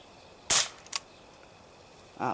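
A Beretta airsoft pistol fires BBs from its first magazine, giving two sharp, close cracks about half a second apart with a small click between them and a softer burst near the end.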